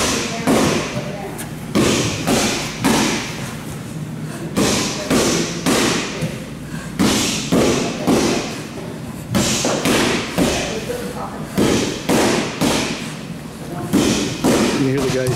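Boxing training in a gym produces repeated heavy thuds and bangs in an irregular rhythm, some close and loud, while a person talks over them throughout.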